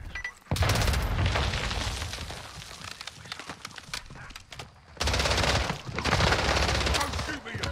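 Rapid gunfire from the WSP Stinger pistol in a Call of Duty Zombies match, loud dense bursts with booming impacts, broken by a short lull before firing resumes.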